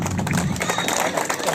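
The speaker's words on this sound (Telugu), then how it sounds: "ఒక్కసారి గట్టిగా క్లాప్స్" An audience claps in a brief, dense burst of applause at a prize event, with scattered cheers mixed into the clapping.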